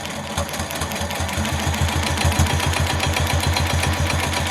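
A sewing machine quilting a design on a layer cake quilt runs steadily, its loud, even motor hum and rapid regular stitching pulse continuing unbroken with no voices.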